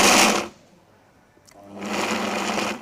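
A Vitamix blender pulses sesame seeds and nuts in short loud bursts, a roaring burst, a brief quiet gap with a small click, then a second longer burst, heard close and alone.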